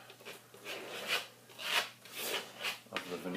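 A steel trowel spreads Venetian marmorino plaster across a wall in repeated strokes, each a soft rasping scrape swelling and fading in a steady rhythm, close and quiet.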